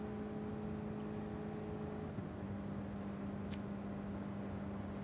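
A Ford GT in a racing video game cruises in sixth gear with a steady, droning engine hum and faint whir, constant and unbroken, alone without voices.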